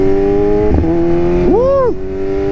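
A BMW M1000RR motorcycle engine holds a strong, loud steady tone, then sweeps up and down in pitch in a quick rev surge before settling, close and dominant.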